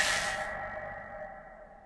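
Distortion perk sound effect from the video game Dead by Daylight, a single ringing tonal chime with a bright airy shimmer that fades quickly, leaving a sustained hum that slowly decays, alone without talk.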